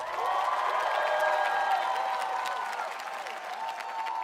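A television studio audience gives warm applause mixed with some cheering as a singer is welcomed onto the stage, a sustained crowd roar with a tonal music bed underneath, fairly even and full throughout.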